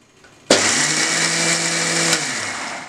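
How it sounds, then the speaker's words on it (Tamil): A kitchen mixer grinder grinds soaked lentils into a paste, starting abruptly with a loud, harsh whirring roar that runs for under two seconds before winding down. "இப்போ இதை நல்லா நைஸாக அரைச்சிக்கலாம்."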